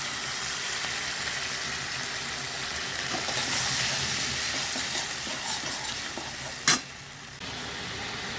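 Ginger garlic paste fries with chopped tomato in a pan, a steady close sizzle with stirring, and one brief sharp clatter near the end.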